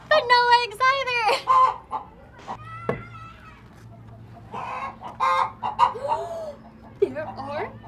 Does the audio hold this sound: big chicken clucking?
yes